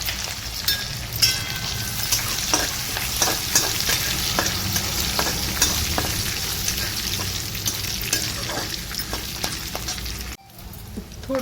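Peanuts fry with cumin, garlic and curry leaves in oil for chivda, giving a dense, continuous, close sizzle with scraping stirs throughout. It cuts out briefly near the end, then resumes.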